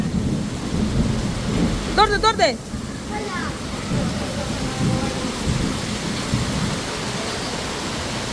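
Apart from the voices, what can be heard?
heavy rain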